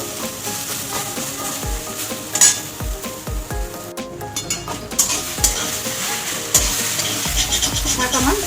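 Greens (shak) fry in a pan with a continuous sizzle, while a spatula scrapes and knocks against the metal in irregular strokes, close and fairly quiet.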